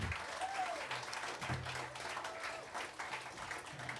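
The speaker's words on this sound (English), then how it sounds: "a round of applause, please" Applause from a concert audience at a Celtic music performance, a steady dense patter of many hands filling the room, with a few faint voices mixed in.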